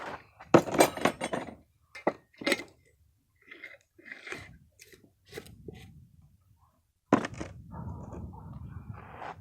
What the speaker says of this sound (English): One cup of rice.